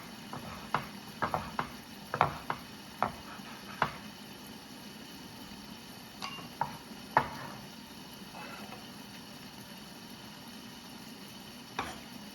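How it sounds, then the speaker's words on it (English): Eggs being sliced with a knife on a board in a kitchen while pad thai cooks, a series of sharp separate taps in two bursts over faint background simmering. "I'm going to slice up the eggs that we made earlier"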